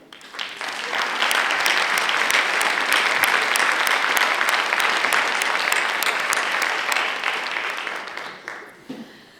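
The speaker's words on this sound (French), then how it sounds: "Je crois qu'on peut encore les applaudir." An audience claps in a sustained burst at the MED for YOU grand opening event, dense and even for about nine seconds before thinning out and fading at the end.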